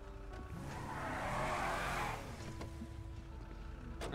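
A car pulls away with a broad engine surge and tire noise that swells over the first two seconds, then settles into a steady running hum; no one speaks.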